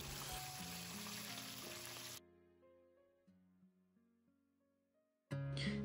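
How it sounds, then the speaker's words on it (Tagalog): Fish fries in a pan with a bright, continuous sizzle over steady background music. The sizzle drops out for a few seconds, then returns loudly. "At saktong malapit na din maluto yung ating pritong isda."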